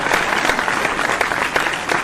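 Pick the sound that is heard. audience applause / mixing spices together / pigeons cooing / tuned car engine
audience applause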